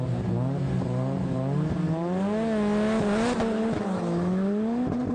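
A Ford Focus rear-wheel-drive WRC and a black Nissan GTI-R rally car launch from the line side by side, engines revving hard with rising and falling pitch, tire squeal and a loud, close, continuous roar.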